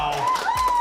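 A crowd at a 2020 rugby awards night cheers and claps in a short, loud burst, with tonal shouts and whoops riding over the noise.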